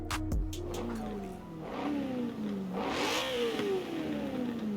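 The BMW M3 GTS engine in Forza Horizon 4 revs up and down through the gears, pitch climbing and falling repeatedly as the car accelerates, loud and close with a brief tire noise and game sounds at the start.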